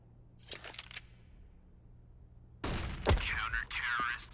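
Gunfire in a Counter-Strike match on the Mirage map, with a couple of faint early shots, then a loud burst of rapid shots and clattering in-game action near the end, all fairly quiet overall.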